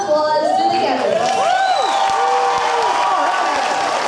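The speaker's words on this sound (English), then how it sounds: "Please give a round of applause to the candidates." Audience applause with cheering and whoops for candidates at a 2022 judicial debate, a dense crowd clapping steadily throughout with scattered shouts and chatter mixed in.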